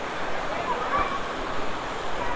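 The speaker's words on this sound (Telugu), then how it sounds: "సో ఫైనల్లీ వాటర్ ఫాల్స్ దగ్గరికి అయితే వచ్చినాం అనమాట." Kushrampally waterfalls pour in a steady, even rush of water, continuous and moderately loud, with no clear breaks.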